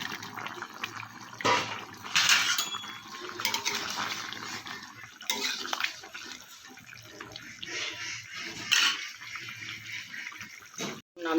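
Vegetarian curry gravy with brinjal and boras boils in a pot, giving a steady bubbling, watery hiss with a few louder clatters and bursts over roughly eleven seconds, close and moderately loud.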